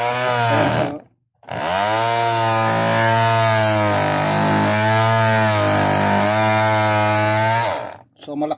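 A Ferrex 12-volt cordless drill with a sanding attachment whirs loudly and steadily, its motor pitch dipping and rising under load, with a short pause near the start.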